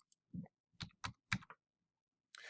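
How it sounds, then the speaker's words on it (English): Keys tapped on a computer keyboard, a handful of distinct clicks in a short burst with a firmer final keystroke, close and quiet, without any talking. "So I will type in here 60, enter."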